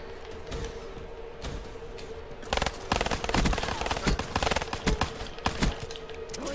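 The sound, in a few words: sniper gunfire in video game Call of Duty Black Ops III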